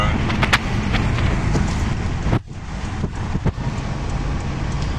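A Jeep WJ Grand Cherokee engine runs steadily during a test drive, a continuous loud rumble mixed with wind noise, with a short dip midway and faint clicks.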